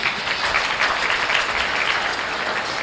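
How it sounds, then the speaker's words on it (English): A crowd applauds steadily and loudly for the class winners at the 2020 Minnesota Youth Livestock Expo breeding gilt show, a dense, unbroken wash of clapping that lasts throughout. "let's give these class winners a big round of applause"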